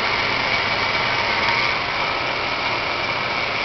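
An AgieCut 120 wire EDM machine hums steadily while backing up its wire, a constant mechanical drone with a faint high tone, close and even with no pauses.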